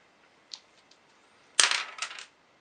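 Two dice for a Memoir '44 board game roll and clatter on a table, a faint single tap followed by a quick burst of rattling clicks that dies away, with no talking.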